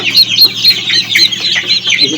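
Native chickens cluck on a farm, a close, loud run of short repeated clucks and chatter from several birds in quick overlapping bursts.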